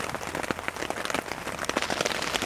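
Rain falls on a tarp at a campsite with weighted corners collecting rainwater, a dense steady patter of many close drops spread across the whole stretch, fairly loud and without speech.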